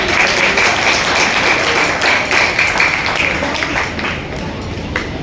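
A church congregation at an anniversary celebration claps together in a loud, continuous burst, the clapping thinning slightly toward the end with no clear talking over it.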